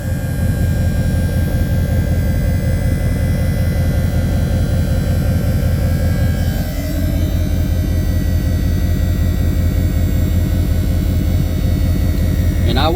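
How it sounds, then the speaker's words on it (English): The electric landing gear motor on a fifth wheel trailer runs with a steady, loud mechanical drone, powered by a weak battery. It changes pitch slightly partway through and continues without pause. "See my landing gear going down?"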